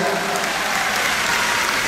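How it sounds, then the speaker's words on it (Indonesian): Loud, dense applause from a large audience at the closing of a savings-and-loan cooperative's annual meeting in Kupang, a continuous even roar of many hands throughout. "Boleh kita berikan tepuk tangan yang meriah."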